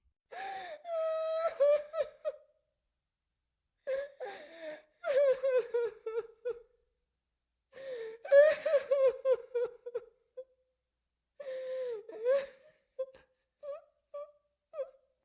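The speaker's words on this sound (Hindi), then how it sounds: "फिर ऊपर वाली मंजिल से किसी औरत के रोने की आवाज आने लगती है।" A woman sobs and wails in broken, gasping bursts separated by pauses, her quavering cries trailing off into short whimpering sobs.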